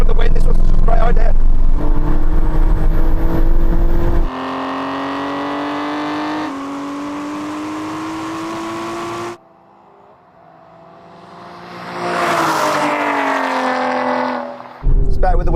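Aston Martin cars accelerate hard in a drag race, a loud close engine roar climbing through gear changes with rising pitch, then a brief lull before another car surges past loudly.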